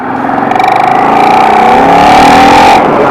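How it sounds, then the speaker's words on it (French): Loud Voxan V-twin motorcycle engine on a 2003 Voxan Scrambler revving hard, pitch climbing steadily as it accelerates, close and continuous. "Le V2 Vauxhall est rageur et son caractère affirmé avec un couple maxi à 6500 tours"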